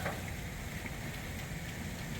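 Steady storm rain hisses in an even, continuous wash, fairly faint, with no voices over it.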